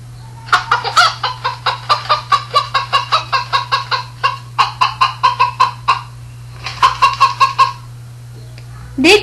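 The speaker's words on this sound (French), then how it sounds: "Des coqs, des poules et des poussins." Hens cluck in a rapid, steady run of short clucks, pausing briefly then resuming, close up over a low steady hum, in a farm setting with roosters and chicks.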